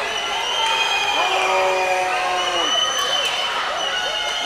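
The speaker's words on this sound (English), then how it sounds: "Listen to this crowd." A crowd at a school district swim meet cheers and shouts loudly through a close race, a steady roar of voices with whoops and high children's yells rising over it.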